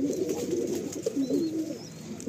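Domestic pigeons, a paired fancy male and female, coo close by in a loft, a series of soft rolling low coos repeating steadily over faint background hiss.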